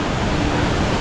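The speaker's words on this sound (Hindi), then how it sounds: "गगनचुंबी पर्वतों से निकलता हुआ ये झरना देखिए" A mountain waterfall on the Kedarnath trek in the Himalayas gives a steady, dense rush of falling water, close and constant, with no pause and no voices.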